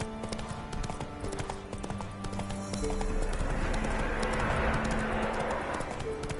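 Horse hooves clip-clopping in The Witcher Wild Hunt video game, a steady quick rhythm of hoofbeats at close range, shifting to a softer trot with rustling over the second half.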